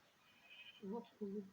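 A Minecraft sheep lets out two short, nasal bleats in quick succession, near and clear, after a quiet moment of game background.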